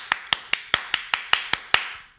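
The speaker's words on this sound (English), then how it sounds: "I'll do another clap for you, dude." Eight sharp hand claps in an even, fast rhythm, close and crisp with nothing else in between.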